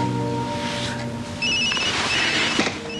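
A telephone rings with a steady electronic trill over a low background hum, lasting about three seconds, close and clear with no talk over it.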